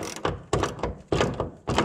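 A ratchet tightens half-inch bolts on a mini hood strut conversion kit for a 1990-1996 C4 Corvette, giving four quick bursts of clicking, close up with brief pauses between strokes.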